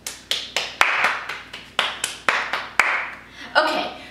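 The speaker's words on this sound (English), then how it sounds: "Can you guys give me a round of applause?" Applause from a few people: a run of distinct, evenly spaced claps close by, with sharp attacks, lasting about four seconds.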